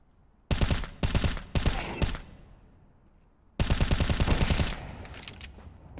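Automatic rifle fire in CS GO: two long, loud bursts of rapid shots, close by, separated by a quieter stretch with a fading echo.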